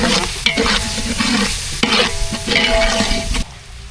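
Spoon stirring chicken masala with turmeric and home-ground curry powder in a hot pan, scraping in uneven strokes over a steady sizzle of frying, close and loud with no talking.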